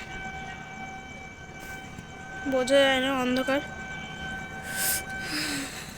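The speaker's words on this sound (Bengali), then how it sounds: "একটা ট্রেন আসছে" A train pulls into a station platform in West Bengal, its horn sounding in a rising, wavering blast for about a second, with a second shorter horn later, while people nearby talk over a low platform rumble.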